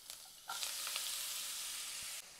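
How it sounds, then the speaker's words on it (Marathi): Grated carrot and beetroot stirred in hot ghee in a wide kadhai over high flame, a steady close sizzle with scraping spoon strokes running through most of the moment before it stops. "हाय फ्लेमवरती एक 4 ते 5 मिनिटं मी छान असं हे हलवत परतवून घेतलेलं आहे"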